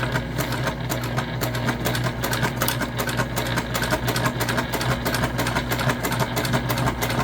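A sewing machine stitches the top of a big tote bag in one continuous, loud, close run with a steady mechanical hum and rapid needle rhythm, no voices.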